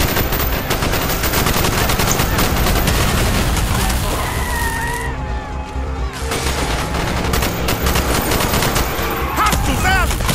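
Gunfire in the Call of Duty Black Ops video game, with sustained loud bursts of automatic weapons and booming shots through a street fight, and combat voices shouting over the continuous shooting.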